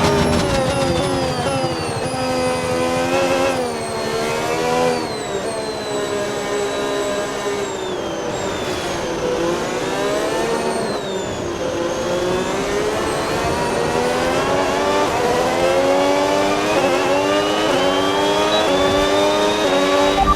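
Formula 1 race car engine in the F1 26 video game at the Shanghai circuit, a loud continuous high-pitched scream rising and falling through gear changes and revs, with no talk over it.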